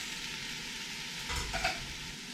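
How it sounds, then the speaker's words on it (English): Sweet potato chilli with canned tomatoes and drained kidney beans being stirred in a pot, a soft scrape and slosh over a low simmering sizzle, brief and close. "And give that a stir in, and then we let the rest of that cook together for 10 minutes"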